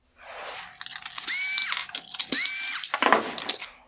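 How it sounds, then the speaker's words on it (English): Two T20 Torx screws being backed out of the cooling fan in a 2021-2022 Tesla Model 3/Y matrix LED projector headlight, heard as close, rapid ratcheting bursts with brief high whirring tool tones, alone without talk. "Next, I'm going to remove the two T20 Torx screws holding in the fan."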